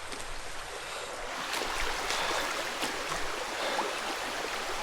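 A forest river that splits into two branches flows steadily, a continuous soft rushing wash with light splashes and no voices, heard at a moderate distance.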